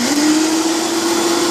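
A Vitamix blender runs on high, blending tomato soup, with a loud, steady motor whir that rises slightly in pitch as it spins up. No one speaks.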